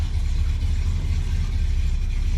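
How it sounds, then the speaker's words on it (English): A towed truck rolls in behind a big tow truck, the engine holding a continuous low idle-like rumble, near and steady for a moment without speech. "And then the second truck."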